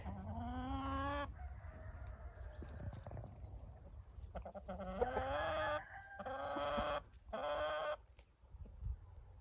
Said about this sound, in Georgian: ქათმები